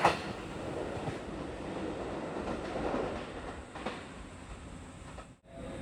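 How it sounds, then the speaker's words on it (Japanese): A two-car Tobu Daishi Line local commuter train rumbles and clatters past steadily near Nishiarai Station, Tokyo, wheels rolling on the rails, then the sound cuts off abruptly near the end. "列車は2両編成で、地方ローカル線感がありますね"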